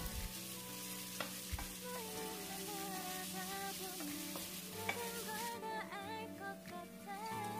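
Chopped onions fry steadily in a pan, a continuous crackling sizzle with a faint hum underneath and occasional small clinks.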